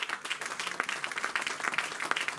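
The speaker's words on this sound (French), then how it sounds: "On donne une acclamation au Seigneur." A church congregation applauding during a sermon, crisp, sharp claps spread across a crowd in an uneven, lively rhythm, fairly close and steady throughout.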